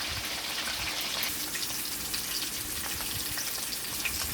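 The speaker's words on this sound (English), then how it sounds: "so that's frying there" Fish frying in oil, a steady close crackling sizzle with scattered pops, continuous and even throughout.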